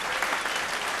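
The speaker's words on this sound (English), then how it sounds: "A round of applause, please, for our guest judge, Mr. David Kedea." Audience applause for a guest judge at a televised singing competition, a dense, steady clapping from a full crowd lasting the whole moment.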